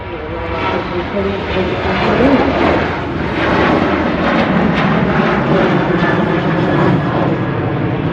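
A Ryanair airliner departing Manchester Airport for Barcelona gives a loud, steady engine roar that holds throughout, with people talking over it.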